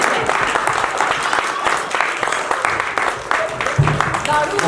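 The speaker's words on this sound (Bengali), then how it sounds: "এবার হাততালিটা দাও" An audience at a Bengali stage comedy applauds in a steady, dense wash of clapping that lasts throughout, with voices mixed into the crowd noise.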